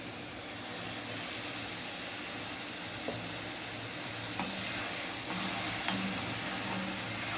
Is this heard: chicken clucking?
no